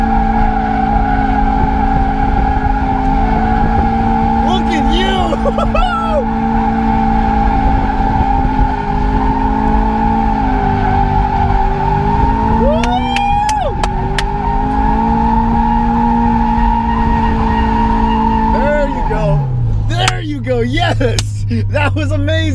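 A turbocharged Subaru BRZ drifts with a loud, sustained engine drone that rises and falls through revs, with bursts of tire squeal and a downshift near the end. Voices cheer faintly beneath the engine.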